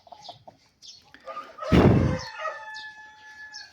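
A young rooster hatched in August crows once, nearby and loud, its drawn-out call rising above faint clucking and scratchy background sounds.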